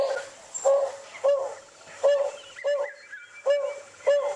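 A red-chested cuckoo call played from a phone app outdoors at sunrise on a safari drive: a repeated, evenly spaced series of clear, loud whistled notes, about eight in a row.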